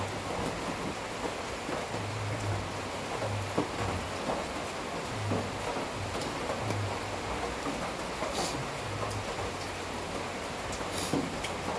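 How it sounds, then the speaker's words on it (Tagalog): Steady rain falls throughout, a dense even patter close by, with a low hum underneath and no talk. "Ulan yata"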